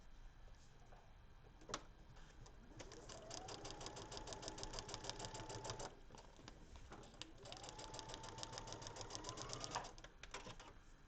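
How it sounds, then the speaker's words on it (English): Sewing machine stitching a paper-piecing seam on vellum, a quiet rapid ticking run of needle strokes in two long bursts that rise in speed, with a brief pause between, close and alone. "Flip my vellum back and sew on the line."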